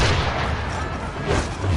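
Enemy cannon or gunfire in the video game Assassin's Creed 3 gives a rough, rumbling barrage of booms and cracks, steady and fairly loud for under two seconds.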